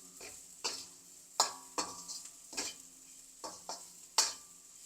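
Bitter gourd frying in a pan, a faint soft sizzle broken by several sharp scraping clicks of a spatula stirring against the pan.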